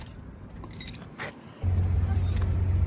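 A key is pulled from the ignition of a 1986 Ford Mustang GT with a T-top and five-speed, giving a brief metallic jangle and clink of the key ring before a low engine-like hum sets in.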